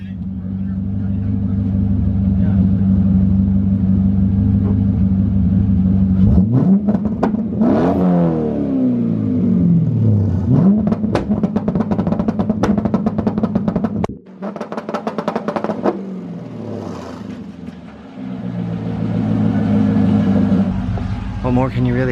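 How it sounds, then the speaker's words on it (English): Loud red Corvette C5 engine, modified to shoot fire, idling with a steady low rumble, then revving sharply several times with rising and falling pitch, a brief drop, and a return to a heavy idle close by. "a loud red Corvette."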